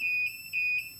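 Steady electronic wail of a Kombora III security system alarm siren, loud and close, with slight pulsing swells and no voices over it.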